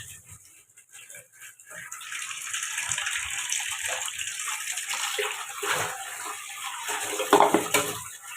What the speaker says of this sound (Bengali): নলের জল মনে হচ্ছে ফুটন্ত গরম জল